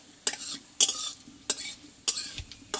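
Whole cumin seeds frying as a tempering in a pan, a faint sizzle broken by about five sharp spatula knocks and scrapes against the metal at a slow, uneven rhythm.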